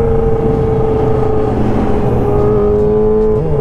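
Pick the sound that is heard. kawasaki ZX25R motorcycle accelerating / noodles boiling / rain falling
kawasaki ZX25R motorcycle accelerating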